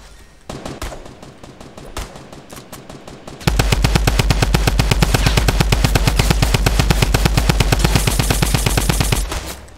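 Fortnite video game gunfire: a few scattered shots at first, then a loud, steady burst of rapid automatic fire lasting several seconds before it cuts off, with no talking.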